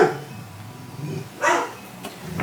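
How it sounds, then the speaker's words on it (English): A dog barks a few times at a distance, short sharp yaps breaking through a quiet room tone with nobody speaking. "Of course the dogs are gonna bark"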